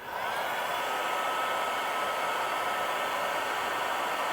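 A heat gun blows hot air onto heat-shrink tubing over spliced wires while installing LED lights on a Polaris Ranger, a steady, close whooshing roar that runs without a break.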